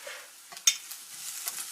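Meatballs frying in a pan alongside onions, a faint, soft sizzle with light stirring scrapes and one brief sharper clink, fairly quiet and steady with no talking.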